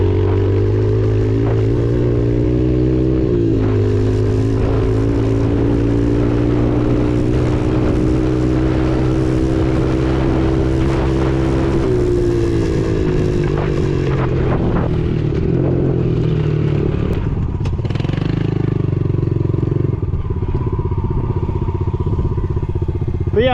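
A ten-year-old Yamaha TTR-110 dirt bike engine runs steadily up close, its droning idle shifting pitch and settling lower near the end, with no voices over it.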